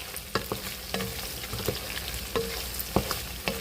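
Pork frying in oil in a pan until crispy, a soft steady sizzle broken by repeated sharp clicks and scrapes from stirring.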